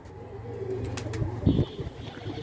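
Pet pigeons cooing nearby on a cold Istanbul evening, a few low throaty coos over a faint background hum, with no one speaking.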